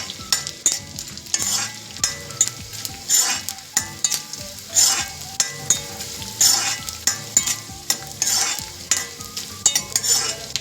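Edible gum (dink) roasts in ghee over a low flame for wheat flour laddoos, with rhythmic scraping strokes of a spoon against the pan over a crackling, sizzling fry.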